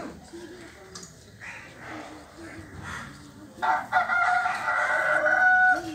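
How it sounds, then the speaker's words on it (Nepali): A rooster crows loudly and close near the end, a long drawn-out call, after a stretch of people talking softly in the background. "तिमीले यो कुखुराले के भनेको थाहा छ"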